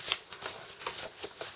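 Junk journal paper pages handled close up, a quick series of soft crisp flicks and rustles like riffled cards, with no one talking.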